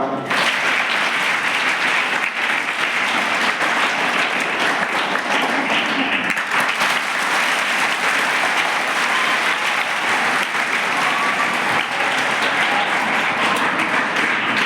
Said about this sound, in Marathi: ज्यांनी डान्स केला त्यांच्यासाठी टाळ्या वाजवा